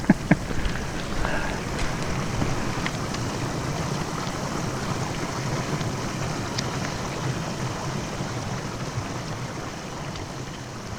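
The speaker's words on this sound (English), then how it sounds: "Still raining as well." Steady heavy rain pours down in a forest during a hike in the wettest area of Europe, a dense unbroken hiss with no voices over it.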